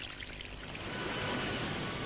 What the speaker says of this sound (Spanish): a medida que se vierte el agua del manantial en este precipicio